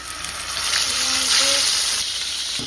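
Beef steak hits a pan with a little oil on a stove and sizzles in a steady, fairly loud hiss that swells and then settles, with faint clinks underneath.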